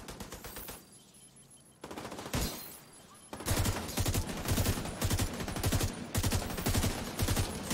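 Rapid bursts of automatic gunfire ring out in a first-person shooter video game, a short volley, a pause, then a long sustained stream of loud repeated shots close up.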